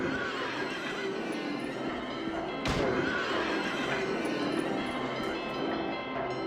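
Horses neighing in the horror video game Motherhood Horror, a steady din of whinnies over a dense, busy game soundscape with a sharp burst near the middle.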